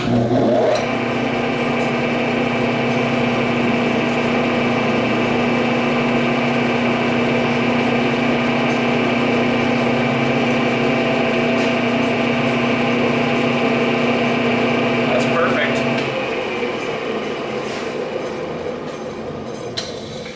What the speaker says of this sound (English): This is an 1/8 inch radius roundover mill that I use for this sort of thing all the time.